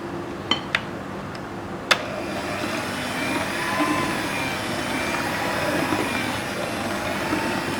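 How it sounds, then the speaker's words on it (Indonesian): Small electric hand mixer running on low speed through chocolate chip cookie dough, a steady close whirring drone with a few light clicks near the start. "Mixer rendah aja ya"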